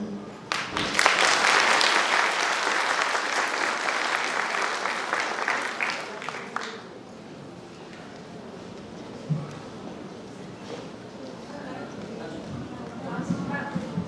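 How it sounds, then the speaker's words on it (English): An audience at a kindergarten annual school concert applauds after a song, a loud burst of clapping for about six seconds that then drops off, leaving room noise and a voice talking faintly. "Can we please hear a very big round of applause for such melodious song?"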